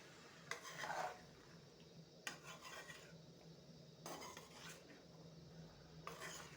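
Spring onion is stirred into an egg dish in a pan in several short, quiet bursts of spoon scraping and rubbing against the metal, separated by pauses.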